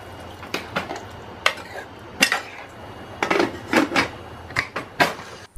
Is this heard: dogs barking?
no